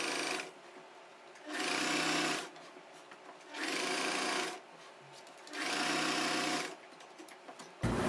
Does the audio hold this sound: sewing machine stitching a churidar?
yes